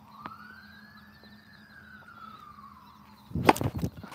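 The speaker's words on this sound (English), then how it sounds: "the ambulance is coming for us in the back" An ambulance siren wails once in a long, faint rising and falling tone from a distance, followed by a burst of close, loud knocking and clattering at the end.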